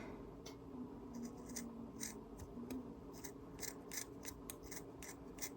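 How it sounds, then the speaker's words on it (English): Scissors snipping through a corner of a crocheted coaster, a series of quick, crisp cuts in an irregular rhythm, close but quiet, with no talk. "I'm going to do is I'm just going to take my scissors and cut this whole entire corner off."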